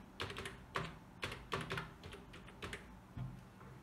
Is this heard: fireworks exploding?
no